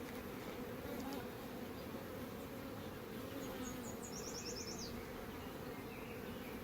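Honeybees in a split colony hum in a soft, continuous buzz during a hive inspection, close to the ears but quiet, with a few faint high chirps drifting in from the background.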